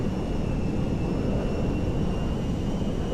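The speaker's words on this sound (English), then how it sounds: "It's a nimble airplane once you start throwing it around." A B-2A Spirit bomber in GTA 5 flies with a steady, dense jet roar, broadband and constant with a faint high whine, heard alone without voices.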